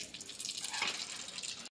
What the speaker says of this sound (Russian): Качай, качай, пусть проходит вода.